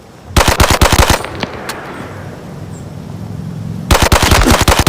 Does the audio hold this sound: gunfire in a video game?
yes